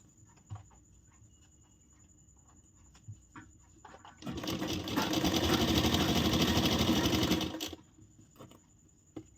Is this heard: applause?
no